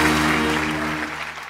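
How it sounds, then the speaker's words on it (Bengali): A studio audience at a comedy talk show breaks into loud applause, a thick, continuous burst of clapping that tapers slightly toward the end, with a low musical hum beneath it. "একটা জোরে হাততালি।"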